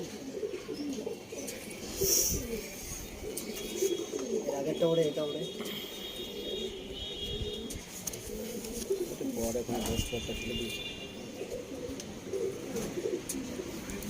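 Arsad and Andhra pigeons coo in a loft, low burbling coos recurring throughout with occasional chirps, near and moderately faint, under someone talking.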